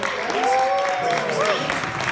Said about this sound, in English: let's applaud, guys, our own Rising Stars